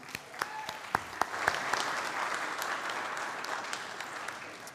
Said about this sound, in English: I think you get a cheer for that, Tom